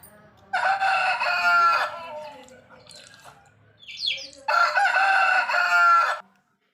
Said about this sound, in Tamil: அடுத்தது நம்ம சேவல் அண்ணன் பாட வராரு.